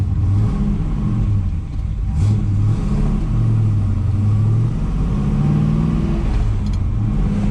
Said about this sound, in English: First test drive of the Camaro, the new roller cam, new heads, rebuilt carburetor